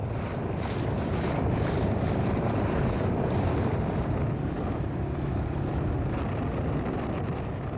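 Lightweight inflatable boat moving across Loch Etive in a freshening breeze, with steady close wind buffeting and water wash rumbling continuously, loud and unbroken throughout, no voices.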